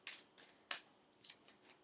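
Tarot cards are shuffled in a few short, soft riffling bursts spaced unevenly over about two seconds, quiet and close with no talking.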